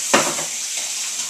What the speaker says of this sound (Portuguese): Então aqui eu vou ligar minha água quente.